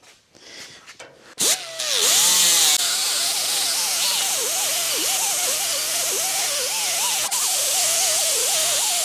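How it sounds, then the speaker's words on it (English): A small 3-inch grinder spins up and cuts through the edge of a Model A car door's sheet-metal skin, a loud close whine with wavering pitch as it bites into the metal, after a few clanks of handling beforehand. "I just grabbed this little small 3-inch grinder. What I got to do now is cut through the edge of the skin"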